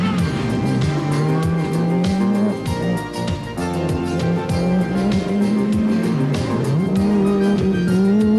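A rally car engine drones and revs on a stage of the 1986 Lombard RAC Rally, loud and steady with shifting pitch as it changes gear, and no one speaks over it.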